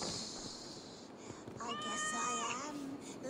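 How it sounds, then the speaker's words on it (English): Several cats meow in Assassin's Creed Valhalla, a clear drawn-out mewing cry rising in the middle of the moment over steady game ambience and soft background noise. "I never thought the meow of cats could soothe my soul."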